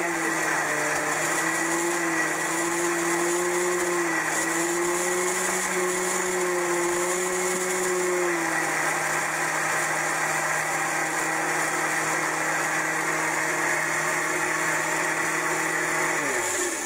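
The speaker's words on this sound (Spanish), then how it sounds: "Agregamos un poco de aceite y licuamos." Electric blender mixing chimichurri with added oil, a loud, steady motor whir held for the whole stretch, its pitch dipping slightly partway through and dropping near the end, with no talk over it.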